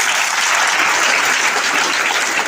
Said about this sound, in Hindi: इस बात पर आपकी ताली बजना चाहिए